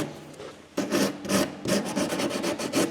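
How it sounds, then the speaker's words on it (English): 80 grit sandpaper on a curved block is rubbed back and forth over body filler, giving close, loud, rhythmic rasping strokes after a quieter start, with no voices. "80 grit on a curved block."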